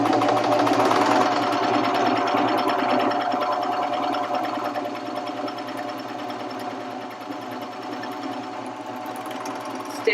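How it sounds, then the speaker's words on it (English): A Baby Lock Vibrant serger stitching through two layers of cotton fabric, a steady rapid mechanical whir with dense rhythmic needle chatter, close and continuous, easing slightly in loudness toward the end. "Now let's try that stitch on 2 pieces of cotton fabric."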